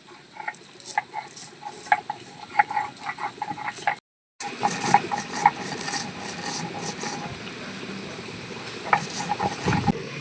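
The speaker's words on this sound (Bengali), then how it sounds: "এই মধ্যে আমি মশলাটা বেটে নেব" Spices are ground by hand into a paste for a bottle gourd dish, producing close, rhythmic rasping scrapes and rubbing strokes. A brief silence falls midway before the grinding resumes.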